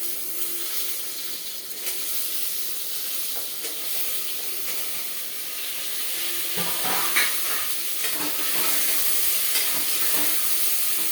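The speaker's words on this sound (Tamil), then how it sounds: "இதை நம்ம வதக்கி இந்த மாரி போட்டால் நல்லாயிருக்கும்" Vegetables for a South Indian veg sambar sautéing in a pan, a steady close sizzle and hiss with spoon scrapes and stirring clatter growing busier toward the end, no talking.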